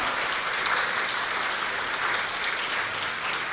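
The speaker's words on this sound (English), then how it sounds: "Mr. Antoine, another round of applause." An audience gives a round of applause at a customer service conference, a steady wash of many hands clapping that fills the whole moment with no voices over it.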